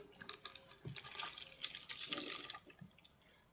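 Part A liquid for glass fiber reinforced concrete is poured into a container, making a quiet, uneven trickle and splash that tapers off toward the end, with no talking.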